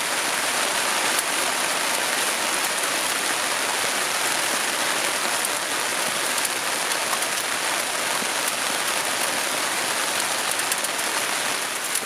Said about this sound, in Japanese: 雨めっちゃ降ってきたね。